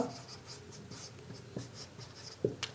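Chalk or marker writing on a board in an accounting lesson, faint repeated scratching strokes in a quiet room, with a couple of sharper taps near the end.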